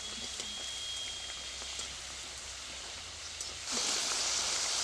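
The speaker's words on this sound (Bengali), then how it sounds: "দেখুন কতটা মুচমুচে হচ্ছে চিপসগুলো" Tomato chips sizzle in hot oil in a kadai, a steady close crackling hiss with a few faint taps, swelling louder in the last second.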